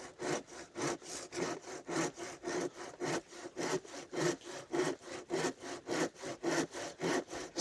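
A hand saw cuts through wood in steady back-and-forth strokes, roughly two per second, each rasping stroke loud and close with a brief dip between pulls, alone with no talking.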